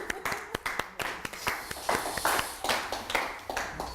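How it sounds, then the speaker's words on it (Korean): An audience in a church Bible class claps in a brief burst of scattered, close hand claps that thin out into uneven taps. "박수 부탁드립니다"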